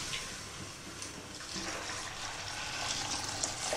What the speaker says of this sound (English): pour enough water to cover it.